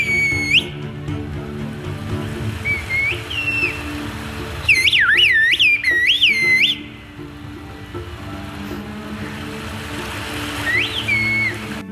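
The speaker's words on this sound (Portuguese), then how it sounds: "Esse povo desenvolveu há séculos uma linguagem assobiada" Sharp, melodic whistles of a whistled-language conversation rise and fall in phrases over a steady low rumble of water or an engine.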